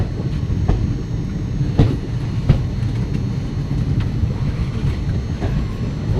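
Passenger express train running through a curve on its route, a steady loud low rumble of wheels and carriages with a few sharper clacks and squeaks along the way, continuous and close.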